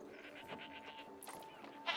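Faint, quavering goat bleats from the video game Anno 1800 overlap in a chorus-like warble, fairly quiet and distant, with a brief brighter burst of noise at the end.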